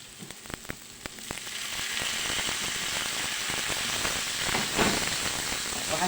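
Tomatoes added to a pan with raw chicken and spices sizzle and fry loudly, a steady dense crackle after a few sharp pops at the start, with no talking.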